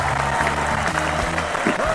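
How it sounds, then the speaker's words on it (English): Dense circus audience applause, steady and loud throughout, with many hands clapping at once. "A nice round of applause for Don."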